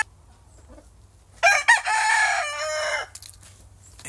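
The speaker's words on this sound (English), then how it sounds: "Damn beautiful bird right there now." A rooster crows once, loud and close, a long strained call with a brief break at the start, standing alone against a quiet background.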